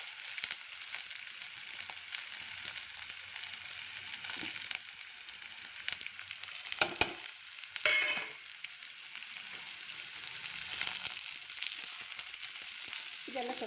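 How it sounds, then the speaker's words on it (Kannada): Ingredients fry gently in a pan with a soft, even sizzle, broken by a couple of brief utensil clanks midway. It is fairly quiet and close, with no voices. "ಇದನ್ನೆಲ್ಲ ಸ್ವಲ್ಪ ಫ್ರೈ ಆದರೆ ಸಾಕು."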